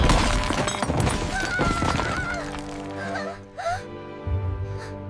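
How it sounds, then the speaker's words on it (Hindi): A wooden chair breaks in an animated children's fairy tale scene, a sharp cracking and shattering burst over a background music bed, with a short creak and a second thud near the end. "कुर्सी टूट गई।"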